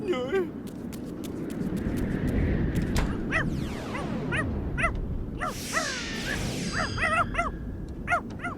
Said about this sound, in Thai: เจ้าแห้วมันเห่าอะไรของมันเนี่ยฮะเฮ้ย